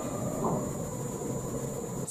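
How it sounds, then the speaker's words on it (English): Stormy weather outside sends a steady, muffled wind roar through the room, a constant low rumble with hiss that holds even and unbroken for about two seconds, moderately faint, with no talking over it. "Sorry if you hear the wind, it's kind of stormy outside"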